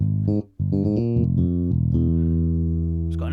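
A funk bass preset in Kontakt Player plays a short twangy, plucked bassline for a disco production, with one brief gap early on and then a held, resonant note.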